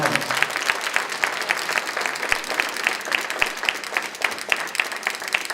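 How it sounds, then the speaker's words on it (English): Audience applause for students and panelists at a 2019 Unite 4 Change panel event, steady dense clapping from a hall crowd that continues evenly for several seconds. "how about one more round of applause for our students and panelists?"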